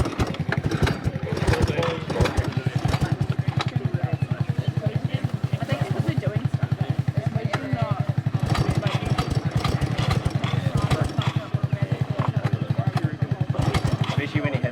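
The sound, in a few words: motorbike engine being started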